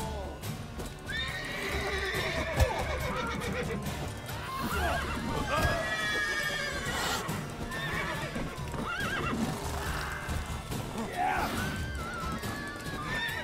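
A horse in The Witcher 3 neighs and whinnies repeatedly while its hooves clip-clop steadily, with combat noises and game sounds mixed throughout.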